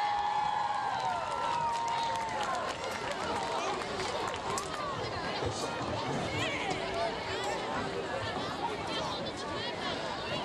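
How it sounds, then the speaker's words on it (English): A gym crowd claps and cheers for the 2018 senior cheerleaders at a high school event, with applause and chatter filling the space and a brief whistle near the start. "Let's give them a round of applause."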